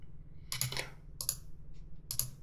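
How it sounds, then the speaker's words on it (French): Computer keyboard keys pressed for a shortcut while working in TradingView charting software: three short, quiet bursts of crisp clicking separated by brief pauses, close to the microphone with no talking. "Je vais utiliser un raccourci clavier"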